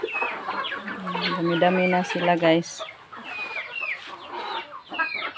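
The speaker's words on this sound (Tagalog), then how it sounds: "Ayan guys yung manok natin." Chickens clucking in a home kitchen, with a rooster-like crow and repeated clucks up close, while someone talks over them.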